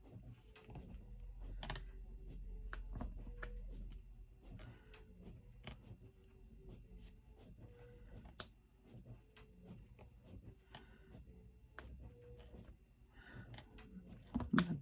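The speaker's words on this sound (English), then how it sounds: "Dulcet sounds of the printer." A printer runs alone indoors, giving off a steady low mechanical hum with repeated ticking and clicking pulses as it works, getting briefly louder at the end.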